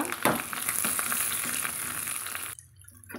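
Dried red chilies, shallots and curry leaves fry in oil for sambar, a close, steady crackling sizzle that cuts off abruptly near the end, leaving a faint low hum.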